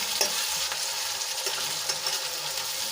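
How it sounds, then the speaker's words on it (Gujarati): Chopped tomato being stirred into onions frying in a pan, giving a dense, continuous sizzle with quick scraping strokes, close and fairly loud. "હવે એમાં આપણે એક કાપેલું ટમેટું એડ કરી લઈશું અને સરસ રીતે મિક્સ કરી લઈશું"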